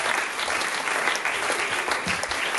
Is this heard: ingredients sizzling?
no